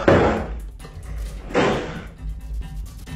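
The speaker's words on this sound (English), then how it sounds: "When he shuts the door again, a loud banging is repeatedly heard." Two heavy, booming door bangs land about a second and a half apart, each one loud and close, with a low rumble hanging between them.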